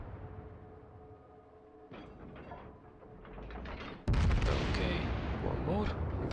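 Heavy battleship main guns firing in the naval video game World of Warships, a deep booming blast that erupts loudly after a quieter stretch of rumbling mechanical game ambience.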